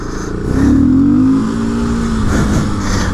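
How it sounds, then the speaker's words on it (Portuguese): A Honda XRE 300 work motorcycle is revved hard nearby, climbing to a sharp whine, holding, then easing off into a rough idle with a second brief blip. "Peguei a moto de trampo do meu parceiro"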